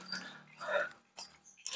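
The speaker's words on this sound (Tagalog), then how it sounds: "Naku, may dog naman." A dog makes a few short barks and whimpers at moderate distance near a residential lot, separated by brief gaps, with faint jangling and a voice nearby.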